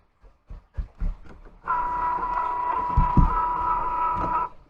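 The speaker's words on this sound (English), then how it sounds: "And my Cricut Joy isn't on, so turn that on." A Cricut Joy cutting machine powers up after a few soft taps and clicks, settling into a steady whirring hum with a couple of thumps partway through.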